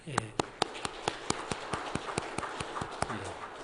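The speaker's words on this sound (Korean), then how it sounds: "우리 사랑하시는 장로님, 권사님 또 성민이에게 우리 박수로 좀 우리 함께 격려해 주셨으면 좋겠습니다." A church congregation claps together in a steady, even rhythm during a Sunday service, sharp beats landing several times a second over a murmur of voices.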